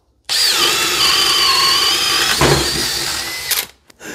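A Makita 40V XGT cordless drill fitted with a 28mm wood-boring bit revs up and bores into wood with a loud, close, steady whine for about three seconds before stopping abruptly.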